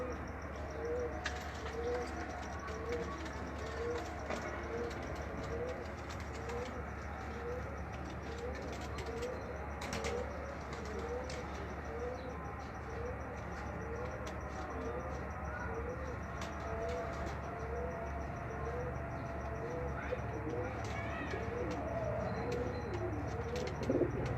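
A pair of pigeons in a Faisalabad loft coo in repeated soft, throaty phrases, a steady rhythmic series at moderate distance over a faint constant background hum.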